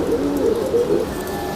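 A pigeon coos close by in a short run of soft, low, throaty warbles against a steady background hum, with no voices.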